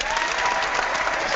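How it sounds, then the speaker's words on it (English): A crowd claps and applauds continuously, a dense, even wash of hand claps at moderate loudness with no break. "I can't stop clapping."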